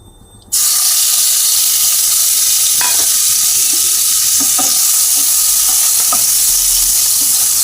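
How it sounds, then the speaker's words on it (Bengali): Prawns dropped into hot oil in a kadai burst into a loud, steady sizzle close by, with scattered pops and a few spatula clinks over several seconds. "এবার চিংড়ি মাছগুলো আমি কড়াইতে দিয়ে একটু ভালো করে ভেজে নেব।"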